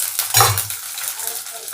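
Shallots and curry leaves frying in oil for a mushroom gravy, a short burst of close sizzling as they hit the pan, then a softer crackle with a light utensil clink.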